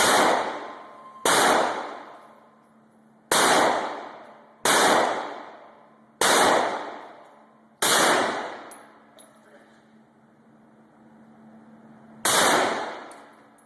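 Seven heavy gunshots at target practice, fired one at a time at uneven gaps, each a loud sharp crack with a long ringing decay and echo, with quiet between some shots.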